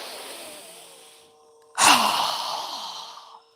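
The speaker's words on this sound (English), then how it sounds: "exhale through our mouth with a strong breath as we lower our arms and hands down" A strong, breathy exhale through the mouth during a yoga breathing exercise bursts in loudly near the middle and tapers slowly, after a fainter breath sound that fades before it.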